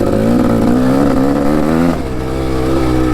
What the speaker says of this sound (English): So this bike is a 1998 KX500